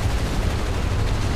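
Dense gunfire in the video game War Thunder, a loud, continuous booming barrage with no gaps.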